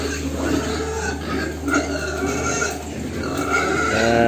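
Young pigs on a farm, about 20 to 60 kg, grunting and shuffling continuously in a pen, a dense, close, steady murmur of oinks with no talk.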